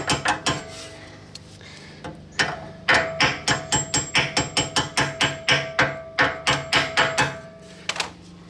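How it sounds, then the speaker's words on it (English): Sharp metallic hammer strikes ring out in a quick, uneven series, some in rapid clusters, close and loud with brief pauses between, as a brake part is hammered back in during a brake pad change on a 2016 BMW M3. "So just hammer that back in."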